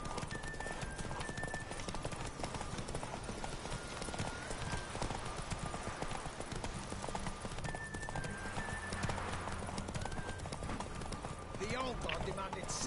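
Steady galloping hoofbeats from a horse in The Witcher 3: Wild Hunt run continuously under talk and game effects during a horse race, with a brief whinny partway through.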